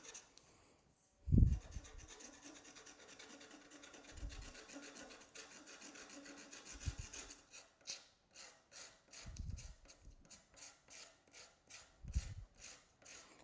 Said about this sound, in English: So I'm just scratching this. Scratching away. Just completely random scratches.